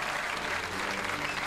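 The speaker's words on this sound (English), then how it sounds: "I'm not going to step on your applause" Sustained applause from a television studio audience at a 1996 Australian TV appearance by Sting, a dense, even wash of clapping that holds steady throughout.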